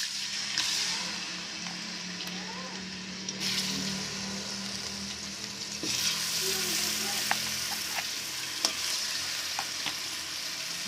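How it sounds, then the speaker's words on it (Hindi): Chicken pieces frying in hot oil in a karahi, a continuous loud sizzle and crackle with occasional sharp pops and utensil clicks, close up with no speech. "अब इसी ऑयल में हम चिकन फ्राई करेंगे"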